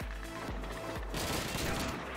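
Rapid gunshots from Call of Duty 2 crack in quick bursts, several sharp shots in a row followed by a rattling volley.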